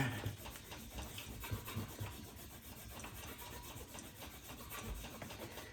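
A cloth rubbed by hand over the frame of a 1979 Schwinn Traveler III bicycle to polish it, giving a steady, close, continuous rubbing and swishing with a few rhythmic strokes and no voices.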